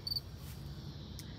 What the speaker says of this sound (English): Oh, you could hear the cricket.